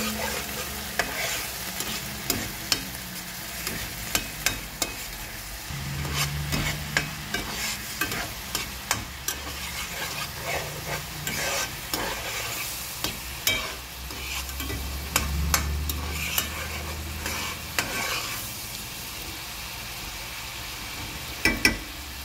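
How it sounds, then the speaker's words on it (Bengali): Ground spice masala with coriander, cumin and chili powder sautéing in a pan for hilsa fish bhuna with onion, a continuous sizzle broken by repeated spatula scrapes and taps against the pan. "এখানে মশলাটা কষানো হয়ে গেছে"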